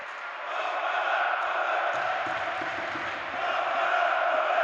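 Spectators at a PAOK Thessaloniki match raise a loud, continuous roar of cheering and chanting that swells slightly toward the end.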